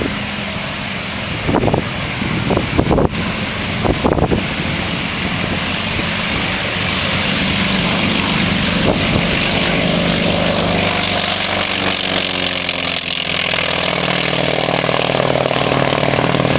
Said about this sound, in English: It's a North American T-28, and it should make one heck of a sound.